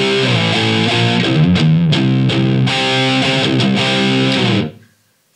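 IDEA MTZ ver.1 high-gain distortion pedal switched on with a clean amp turns the electric guitar into loud, saturated, heavily distorted chords that ring steadily for several seconds, then are choked off to silence.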